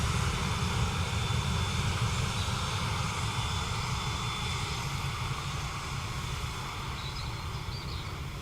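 An Emirates airliner taxiing at Dublin Airport on a rainy day, its engines giving a steady, continuous broadband rumble and whine at moderate distance, fading slightly toward the end with no speech.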